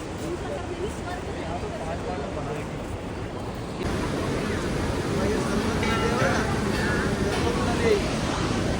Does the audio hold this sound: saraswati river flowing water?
yes